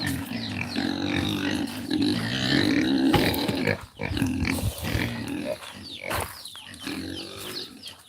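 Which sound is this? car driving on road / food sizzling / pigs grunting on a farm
pigs grunting on a farm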